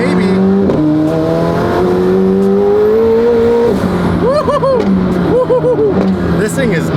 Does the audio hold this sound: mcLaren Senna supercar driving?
yes